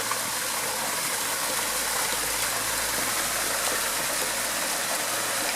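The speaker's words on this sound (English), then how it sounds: "What I was gonna say is we come up on a really pretty waterfall." Waterfall in Talladega National Forest, Alabama, a constant broad roaring rush of falling water, close and steady throughout, with no talking.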